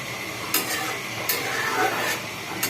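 Pangas fish curry in a pot being stirred, with soft sizzling and simmering throughout and a few brief clinks of a utensil against the pot, close and steady.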